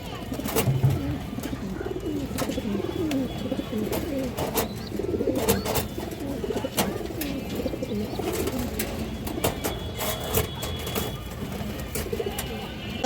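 Black-necked female pigeons coo in a low, continuous murmur at a pigeon sale, with several birds close by, steady background rustle and occasional sharp clicks, no speech.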